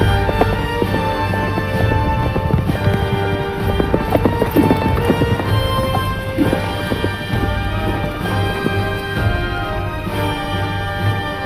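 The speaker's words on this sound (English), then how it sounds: "Now get on that horse." A horse gallops in a film scene, its hoofbeats thudding in a fast, dense rhythm under a loud, continuous score, with no one talking over it.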